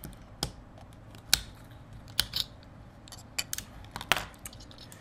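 Sharp plastic clicks and snaps while a digital hygrometer is taken apart by hand, scattered irregularly over several seconds, close and fairly quiet with no talking.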